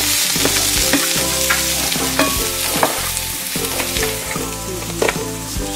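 Peppers roasting in a pan for menemen, a dense continuous sizzle with repeated clinks and scrapes of stirring, close and loud, with no voices.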